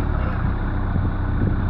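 A 1.9-litre non-turbo diesel van engine runs with a dense, rough, continuous rumble, loud and close, with no voices over it.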